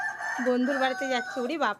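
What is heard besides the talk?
rooster crowing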